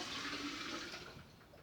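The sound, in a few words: water being poured into a vase for an orchid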